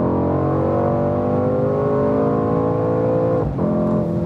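A Mercedes C63 AMG Coupé pulls hard on a racetrack, its loud engine note climbing steadily close by, with a brief dip near the end as it shifts.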